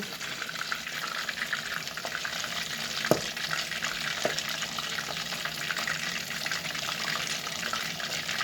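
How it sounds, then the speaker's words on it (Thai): Crispy pork belly fries in hot oil with a dense, continuous crackle of spattering, broken by a couple of louder pops, heard close and with no talking. "น้ำมันกระเด็นมากเลยทุกคน"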